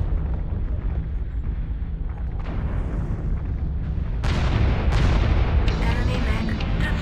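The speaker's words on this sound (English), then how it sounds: "Enemy mech destroyed." A mech blows up in the robot combat game Mechwarrior Online, a deep rumbling blast with heavy low-end roar and sharp bursts layered over continuous battle noise.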